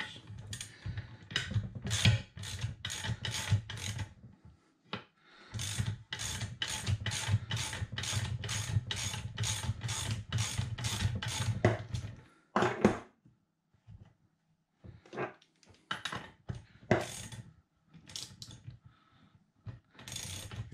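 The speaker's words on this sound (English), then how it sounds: "Tighten up again and it pulls the bearing out." A Granturismo bearing puller tool being tightened to draw a bearing out, heard as close, rapid ratcheting clicks in long runs broken by pauses and a few scattered knocks.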